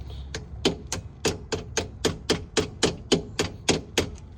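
Steady hammer blows driving a Honda Civic transmission pin into place, roughly fifteen sharp, close metallic taps in an even, quick rhythm with no talking.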